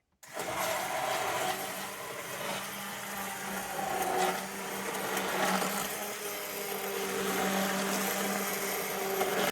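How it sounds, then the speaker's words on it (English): An immersion blender whirs through a sauce at a camp cooking site, a steady motor buzz that starts abruptly and runs continuously, rising and dipping slightly as it works. "you are going to blend this up until it's silky smooth"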